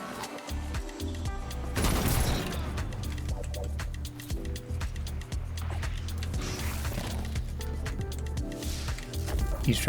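Rapid gunfire in a video game, a dense, sustained barrage of shots with sharp bursts near two and six seconds over continuous background game noise, no talking.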